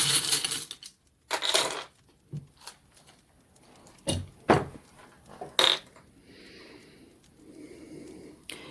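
Divination dice rolled during a tarot reading: sharp clattering bursts as small dice drop and tumble onto a hard surface, several separate rattles spread across the clip with quiet gaps and faint rustling between them.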